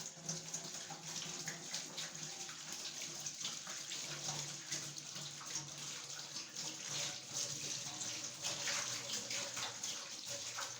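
Water runs steadily from a kitchen tap while dishes are rinsed, a continuous close splashing flow lasting throughout with no talking.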